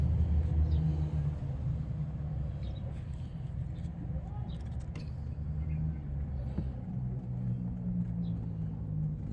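The turbo engine of a DA64V minivan idles close by with a steady, deep rumble that stays even throughout.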